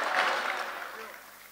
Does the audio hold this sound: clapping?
yes